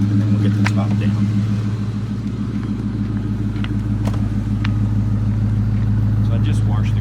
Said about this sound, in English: I'll give it a couple of revs here.